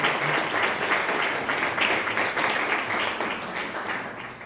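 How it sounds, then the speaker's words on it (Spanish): An audience at a lecture on Hernando de Soto gives sustained, dense applause after the talk, a steady roomful of clapping that tapers slightly toward the end. "me sumo a estos aplausos tan merecidos"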